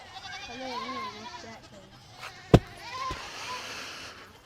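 Goats feeding on molasses-sweetened feed bleat several times at close range, wavering calls clustered early on and again near the end, with a sharp knock in between.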